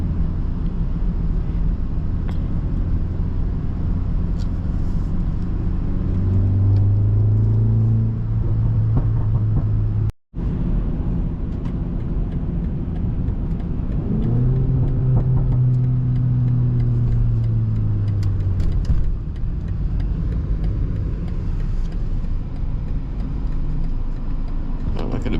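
A tuned 340 hp BMW 330i four-cylinder drones from inside the cabin in slow traffic, its engine note swelling in two throttle pulls over a constant low rumble, with a brief dropout between them.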